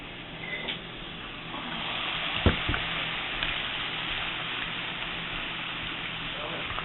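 Pork, sausage, potato and white bean cassoulet ingredients with a bouillon cube browning in a pot on the stove, giving a steady low sizzle and crackle throughout with a few brief clinks near the middle.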